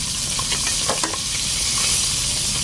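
Food sizzles and crackles steadily in a hot pan, with a few brief stirring scrapes near the start; no talking.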